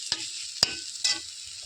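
Paneer vermicelli with milk being stirred in a pan, a few soft scraping strokes over a faint steady sizzle, close and quiet with no talk.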